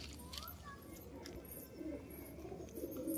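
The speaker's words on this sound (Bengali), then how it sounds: "হেভি কবুতর আছে, নর কবুতর" Male pigeons, heavy birds kept for sale, coo softly at a distance, low rolling calls under a faint background hum with a few higher chirps.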